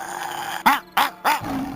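Dog barking to scare off a beast at a campsite, three sharp barks in quick succession close by, with a faint growly undertone between them.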